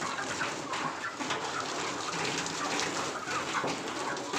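Village chickens in a yard give a steady bed of clucking and fowl calls, fairly close and continuous, with no talk over them.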